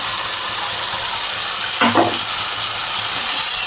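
Fish head dropped into hot spiced oil sizzles loudly and steadily, with a brief clatter of stirring near the middle, close up and without voices.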